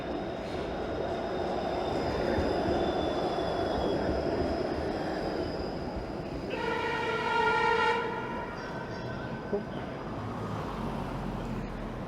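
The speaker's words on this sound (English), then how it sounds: "There's a 504 King streetcar." A 504 King streetcar rumbles past amid downtown Toronto traffic at night, sounding a sustained horn-like tone for a second or so midway before the noise eases.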